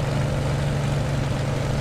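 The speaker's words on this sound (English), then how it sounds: "you can just hear a small change in the tone of the engine" A simulated WWII fighter engine (Bf 109 K-4 or Fw 190 D-9) runs with MW50 power boost in the DCS World flight simulator, giving a loud, constant droning roar with no pauses.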